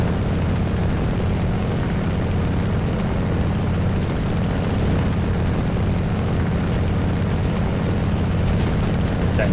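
Steady loud drone of a Spitfire MkII's piston engine and propeller in War Thunder, a constant roaring hum climbing over Sicily, unbroken throughout with no voices.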